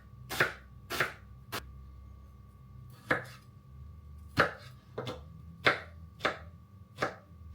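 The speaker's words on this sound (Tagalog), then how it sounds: "Tapos mag-cut naman tayo ng bawang at saka sibuyas." Garlic and one small onion being chopped with a knife on a cutting board, about nine sharp, distinct chops in an irregular rhythm, close and clear with no talking.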